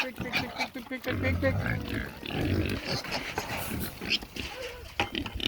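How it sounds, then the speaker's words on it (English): Several pigs grunt and snuffle close by at feeding time amid a busy, noisy scene, with people talking over the animals. "feeding pigs"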